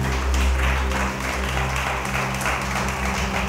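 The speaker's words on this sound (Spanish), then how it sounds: "dale ese aplauso al Espíritu de Dios." A church congregation applauds during a sermon, a steady wash of clapping under a droning, humming hall sound, continuous and moderately loud.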